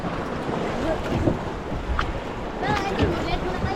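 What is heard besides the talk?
strong ocean waves at sea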